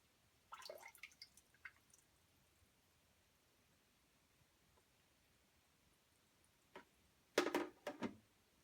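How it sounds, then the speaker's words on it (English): Water rinsing over hydroponic plant roots, heard as a close, quiet cluster of drips and small splashes, then a near-silent pause, then a brief louder burst of splashing and trickling toward the end. "First thing I'm going to do is rinse them off."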